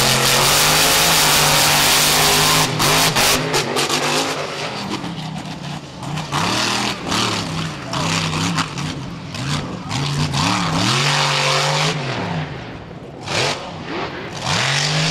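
Monster truck engine on a beach track at Wildwood, New Jersey, roaring loudly through a big air run, revving up and down in repeated surges with crowd noise behind.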